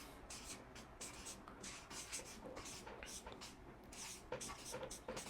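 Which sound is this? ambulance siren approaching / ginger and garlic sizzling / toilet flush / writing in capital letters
writing in capital letters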